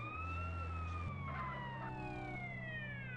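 An ambulance siren in GTA San Andreas wails in long, slowly falling tones over a low engine drone, steady and prominent with no talking.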